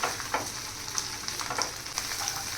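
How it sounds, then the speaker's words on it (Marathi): Tender guar beans cook in oil over a medium flame, giving a steady close sizzle and crackle with small pops scattered through, and no voices. "छान अशी कवळी गवार आहे ना ती छान या तेलामध्येच आपण इथे शिजवून घ्यायची आहे"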